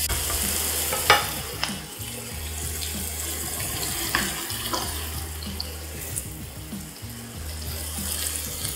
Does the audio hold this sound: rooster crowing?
no